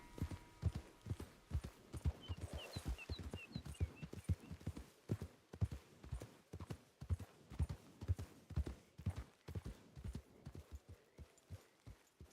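Horse hooves in Red Dead Redemption 2 clip-clop in a steady, rapid rhythm, clear and close, continuing alone throughout with a faint whinny-like sound early on.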